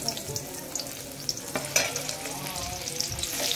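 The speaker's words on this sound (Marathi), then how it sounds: "कढईमध्ये टाकूया 2-3 चम्मच तेल। तेल चांगलं गरम झालेलं आहे कारण कढई पण मस्त गरम झालेली आहे। टाकूया लसूण," Garlic dropped into two to three spoons of hot oil in a well-heated kadhai sizzles with a steady, close crackle, and a sharper spitting burst comes midway; no one speaks.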